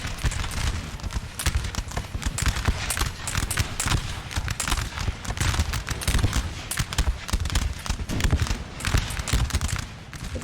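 Rapid, dense musket volleys crackle continuously through a Napoleonic Total War 3 battle, overlapping shots popping without pause at a loud, steady level with no clear gaps.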